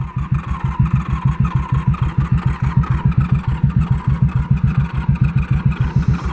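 A 1994 Honda Magna 750 VF750C motorcycle engine running low on fuel, close and loud, with a steady, rapid pulsing throb that stays even throughout.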